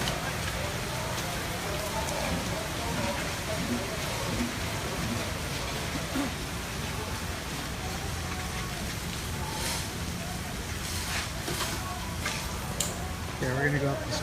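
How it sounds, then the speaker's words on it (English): Rain patters steadily over the motocross pits at the All Japan MX event, a constant wash of droplets with faint voices and distant activity underneath. "We got rain."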